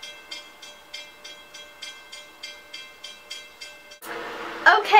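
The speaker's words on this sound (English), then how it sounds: "I love how the train has to interrupt me" A train passing nearby: a steady run of rhythmic clacking from wheels over rail joints, about two beats per second, followed by a louder, rougher burst of rumble and screech as it goes by.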